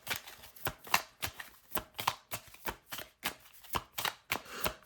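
Tarot cards are shuffled for a reading, with a steady run of soft, close riffling slaps in quick rhythm and no talking.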